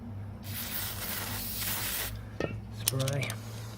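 An aerosol spray hisses steadily for nearly two seconds during a quick repair of double doors on an 1860s–70s historic building, followed by a few light metallic clinks and a brief voice.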